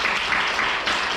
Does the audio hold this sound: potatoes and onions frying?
no